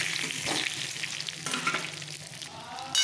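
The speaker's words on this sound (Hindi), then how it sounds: "अब ये फरे डालूँगी" Rice-flour phara dumplings frying in oil with mustard seeds, cumin and curry leaves, stirred in a pan, giving a loud close crackling sizzle with scraping strokes and a sharp clatter at the end, no talk.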